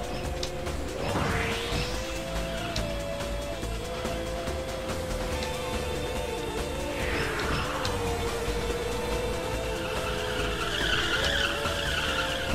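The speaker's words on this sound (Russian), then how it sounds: "Какой дрифт у меня затяжной получился" A car in the racing video game Stunt GP drifts with a long, steady tire skid that squeals continuously over a loud, constant engine drone, with the pitch wavering as the slide goes on.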